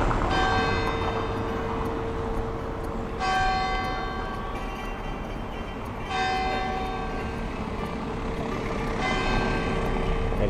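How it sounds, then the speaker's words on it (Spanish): Church bell in the historic quarter of Telde, Canary Islands, strikes slow, even peals that ring and sustain over steady outdoor background noise, with no talking. "Aquí con la campana de fondo."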